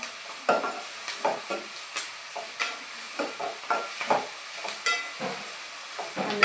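A spoon stirs rice with ginger paste and onions in a hot pan, giving soft scraping strokes over a steady frying hiss and sizzle at close range.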